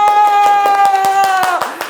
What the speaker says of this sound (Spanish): aplauso. Bravo. ¡Bienvenido!